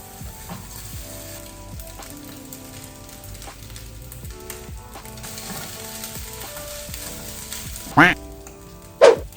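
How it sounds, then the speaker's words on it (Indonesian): Fried rice (nasi goreng) frying in a pan, a steady close sizzle with light scraping stirs throughout, ending with two short louder clanks. "Kita masak walaupun masaknya hanya nasi goreng."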